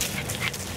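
A standard poodle puppy whimpers and pants in a few short, breathy bursts, close by and fairly soft, with no talk over it.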